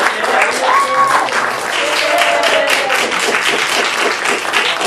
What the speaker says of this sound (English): you can applaud for me